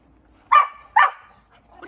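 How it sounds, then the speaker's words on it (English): Two sharp dog barks spaced about half a second apart, close by, followed by a quieter start of another sound. "What are you barking at?"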